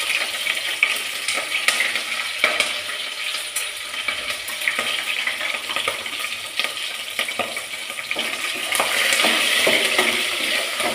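Green chillies frying in hot oil give a steady close sizzle with crackles and spits throughout, swelling louder near the end, with light stirring scrapes in a pan.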